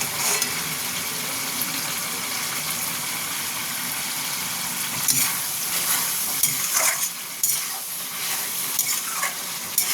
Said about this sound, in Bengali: আমার মাংসটা প্রায় কষা হয়ে গেছে, আর একটু কষবো।